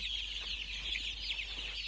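Many Andijan black chicks peeping together in a dense, continuous high-pitched chorus, close and steady, over a low background hum.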